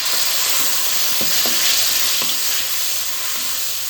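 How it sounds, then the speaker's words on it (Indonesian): Spice paste sizzling loudly in hot oil, a steady dense fry with a few clinks of a utensil stirring it, no voices. "Ini minyaknya sudah panas, waktunya kita tumis bumbunya."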